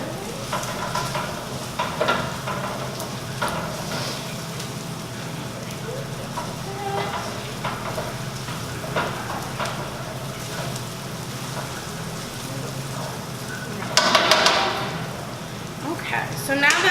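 Bacon and onions frying in a pan while making spaghetti carbonara, a steady close sizzle with occasional stirring scrapes and a louder burst of crackling near the end, a voice talking faintly at times.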